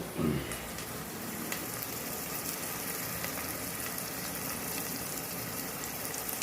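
Onions sautéing in a pan for a Tirunelveli-style chicken curry, giving a steady, even sizzle with a soft fizzing hiss, close and moderate in level throughout, with a brief low bump at the start.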